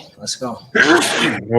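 A man sneezes once, a sharp burst after brief chatter, close and loud, with voices talking around it.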